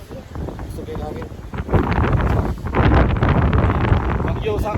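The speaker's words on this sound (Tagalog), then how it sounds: "Kusog kayo ang hangin." Strong gusts from Typhoon Nanmadol batter the microphone in Matsuyama, Japan, building into a loud, continuous roaring rush of wind with rustling, while someone talks over it.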